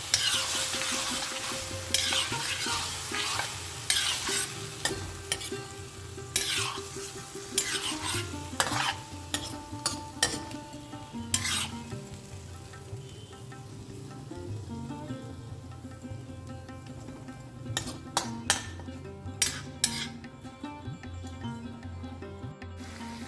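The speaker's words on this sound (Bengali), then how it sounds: "আলুর সঙ্গে মশলাটাকে খুব ভালোভাবে হালকা হাতে মিশিয়ে নিতে হবে" Boiled potatoes stirred with spice mix in a sizzling pan, repeated scraping strokes of a spatula against the pan over a low fry, irregular rhythm, fairly close, no talking.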